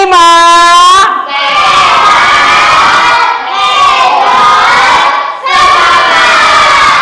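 A class of fifth-grade children shouts its class cheer together in a school classroom, loud and close, in several rhythmic bursts separated by brief pauses.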